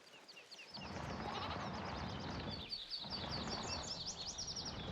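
Sheep and lambs in Farming Simulator 22 bleat repeatedly over a busy backdrop of chirping birds, the calls overlapping in a continuous outdoor chorus.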